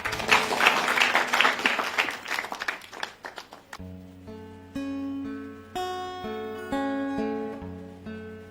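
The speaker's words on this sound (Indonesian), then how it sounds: "kita berikan tepuk tangan kepada Teater Galang Kangin" Audience applause for a school theatre troupe's musicalized poetry performance at SMA N 2 Amlapura, a dense burst of clapping for about four seconds that gives way to sustained instrumental music.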